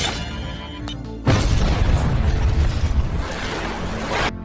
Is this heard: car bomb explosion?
yes